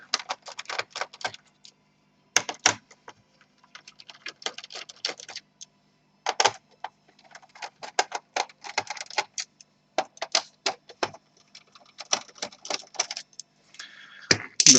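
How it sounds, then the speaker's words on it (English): Small screws come out from beneath the keyboard of a Toshiba Satellite L670 laptop during disassembly, giving close, irregular metallic clicks, ticks and rattles in scattered bursts with short pauses, and no talking. "we have a few screws underneath the keyboard. We have to remove them also to lift the whole plastic."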